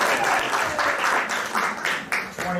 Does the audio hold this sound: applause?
yes